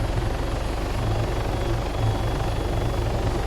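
A Hummingbird helicopter flies in the video game Arma 3, its rotor throbbing in a loud, steady chopping drone with no voices.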